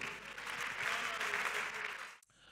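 A church congregation claps during a French-language worship service, steady sustained applause filling the room before it cuts off abruptly near the end.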